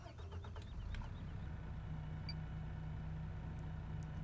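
A fire engine in Farming Simulator 15 runs with a steady, low, close mechanical rumble that holds evenly throughout, with faint clicks early on.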